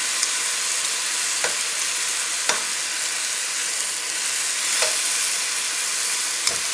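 Turkey medallions and vegetables saute in a pan over a high flame, giving a steady close sizzle with a few sharp crackles and the occasional scrape of a stirring utensil.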